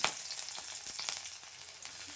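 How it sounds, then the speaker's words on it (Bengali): Garlic, black cumin and green chili sizzle briefly in hot oil in a home kitchen, a steady close frying hiss with a few crackles and no talking. "রসুন আর কালো জিরে আর লঙ্কা দিয়ে ভাজা ভাজা করবো"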